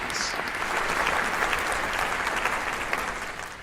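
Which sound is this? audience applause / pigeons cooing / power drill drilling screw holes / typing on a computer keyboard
audience applause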